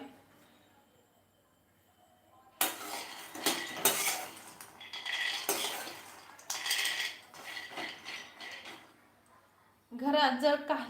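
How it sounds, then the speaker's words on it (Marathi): Peanuts being roasted in a pan, with quick bursts of dry rattling and scraping as a metal spoon stirs them, broken by short pauses; a voice speaks briefly at the start and end. "अशा प्रकारे आपण शेंगदाणे भाजून घेऊया"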